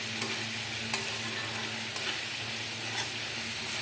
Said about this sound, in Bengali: এইভাবে আমি মশলাটা কষিয়ে নেব।